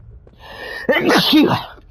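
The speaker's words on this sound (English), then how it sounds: "Gonna sneeze." A single loud, close human sneeze: a short inhaled build-up, then a sharp explosive burst that fades within about a second.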